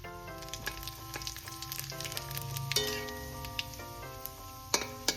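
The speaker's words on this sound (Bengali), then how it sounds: "ফোড়নটা একটু ভেজে নিই" Dried chili, bay leaf and whole cumin frying in oil for a mixed dal give a soft, steady sizzle, with light clinks of utensils and faint tonal background sound.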